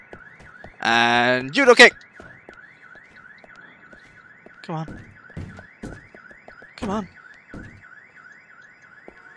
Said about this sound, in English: It's got an alarm on it.